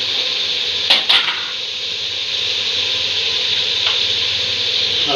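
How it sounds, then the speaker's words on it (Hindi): Meat frying (bhuna) in a pot for chicken, a loud, steady, hissing sizzle close up, with a couple of brief stirring clinks near the start. "यहाँ पे गोश्त को अच्छी तरह से भून लेना है इसमें डाल के"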